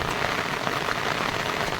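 Heavy monsoon rain pours steadily onto surfaces beside a fishpond, a dense unbroken hiss, close and loud, with no voices.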